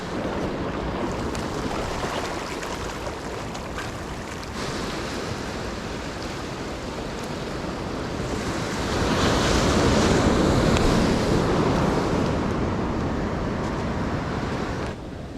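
Ocean waves wash onto a beach along the Pacific Coast Highway at Malibu on a cold early morning, with continuous surf roar swelling louder midway, mixed with wind buffeting the microphone.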